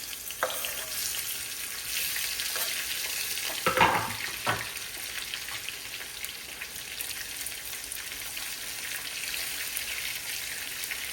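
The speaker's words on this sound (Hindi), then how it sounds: "हमने तो अपने प्याज थोड़े काले भी कर दिए" Onions frying in a kitchen pan, some already darkened, give a steady, close sizzle with a few brief stirring or clattering sounds partway through and no talking.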